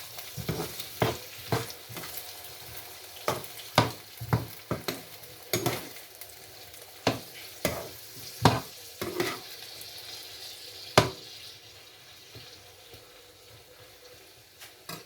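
Green salmon sauce cooking in a pan: repeated scraping stirring strokes at an irregular rhythm over a faint, low sizzle.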